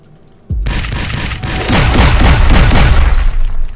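Loud gunfire and booming explosions from the game Ark Rivals erupt after a brief quiet, with a rapid run of repeated shots and blasts building into a dense, continuous barrage.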